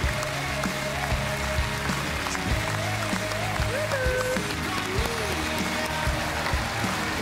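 Studio audience applause welcoming two female hosts and game veterans onto a German game show stage, a steady dense clapping wash that holds for several seconds under background music tones.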